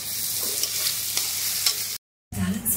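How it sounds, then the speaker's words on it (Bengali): Tomatoes fry with ginger and garlic in a pan, giving a continuous close sizzle with spatula stirring noises, a brief cut to silence, then renewed frying. "এবার আমি টমেটোটা দিয়ে দিচ্ছি, টমেটোটা দিয়েও একটু ভালো করে ভেজে নেবো"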